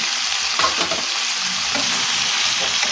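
Mixed vegetables sizzle steadily in a hot pan while a utensil stirs and scrapes through them, the frying hiss loud and constant with soft irregular clinks, no voices.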